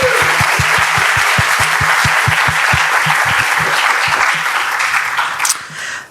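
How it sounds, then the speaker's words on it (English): An audience at a design conference panel claps loudly and steadily for several seconds, a close, dense round of applause that tapers off near the end. "Round of applause for Caroline."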